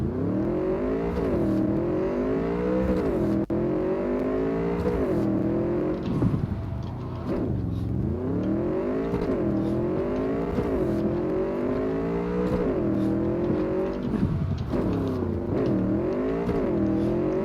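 A motorcycle engine in the video game Cyberpunk 2077 revving and droning steadily, pitch rising and falling in repeated surges as the bike accelerates and shifts, loud and continuous.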